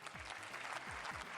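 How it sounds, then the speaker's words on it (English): An audience claps in a short, continuous burst of applause greeting a stage introduction, a steady wash of hands with a few low thumps underneath. "the applause is getting a little annoying"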